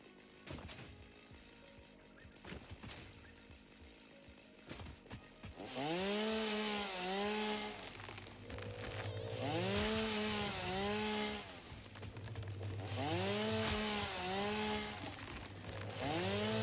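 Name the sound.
chainsaw running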